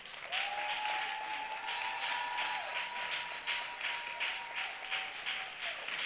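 A large audience applauding in a hall of nearly 10,000 seats, a dense sustained roar of clapping from many hands, distant and even, with a steady tone running beneath it.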